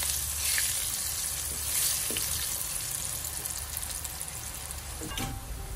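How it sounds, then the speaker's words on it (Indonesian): Tempeh seasoned with salt and turmeric fries in a pan, making a loud, steady sizzle throughout, with a few faint stirring scrapes and no talk. "Okey, kita goreng dia sampailah dia masak"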